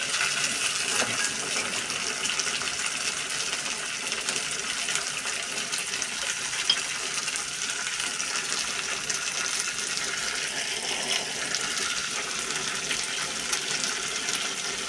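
Water is poured in a steady, continuous rush into a pot of sautéed rice for Egyptian koshari. The hiss stays close and even for about fifteen seconds, with no talk.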